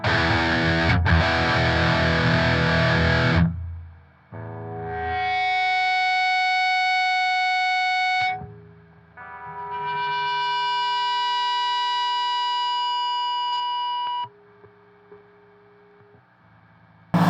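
A Peavey Axcelerator electric guitar with a JB humbucker plays through a Boss Metal Zone MT-2 distortion pedal, giving a short burst of heavy chugging followed by two long, sustained distorted notes that ring out and are cut off, with hum between them.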